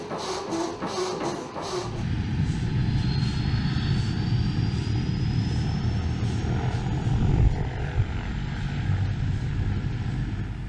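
The world's largest production helicopter, a massive heavy-lift aircraft over 40 meters long, flies nearby with a steady, loud droning roar of engine and rotor and a faint rising whine.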